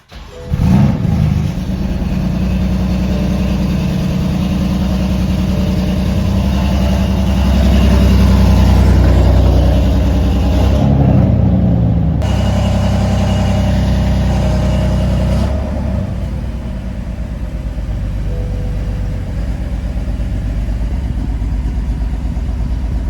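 A BMW M4 engine with new spark plugs cranks and catches, revs briefly, then settles into a steady, loud idle rumble heard up close for a long stretch.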